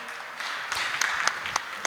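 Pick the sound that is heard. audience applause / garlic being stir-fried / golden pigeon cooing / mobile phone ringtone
audience applause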